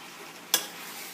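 A spoon stirring turkey soup with stewed vegetables in a pot gives a single brief, faint scrape or clink over quiet kitchen background.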